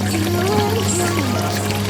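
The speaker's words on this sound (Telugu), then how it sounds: "చూడవచ్చు మీరు, వాటర్ అనేది బాగా వస్తున్నాయి." A strong, continuous gush of water pouring from a three-phase submersible pump outlet runs throughout over a steady low motor hum, with no talking.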